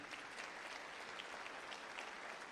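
Church congregation applauding the Lord during a sermon, continuous dense clapping at even loudness across the whole stretch, with no pause.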